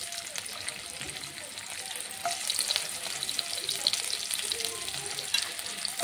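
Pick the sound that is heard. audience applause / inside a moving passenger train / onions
onions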